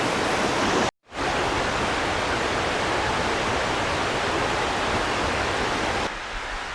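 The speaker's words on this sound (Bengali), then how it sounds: "দেখে আসলাম ফলসটা, সেই ফলসটাই নিচে এইভাবে নেমে এসেছে।" Sanaghagara waterfall in Keonjhar, Odisha, pours down in a steady, loud broadband roar, unbroken except for a brief cut near the start and a slight drop in level toward the end; no voices.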